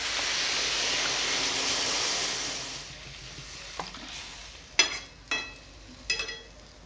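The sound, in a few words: water added to fish-head curry in a hot pan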